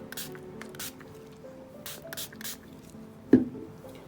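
Short spray bursts onto melt and pour goat milk soap, several soft hissing puffs spaced apart, followed by a brief louder knock, close and quiet.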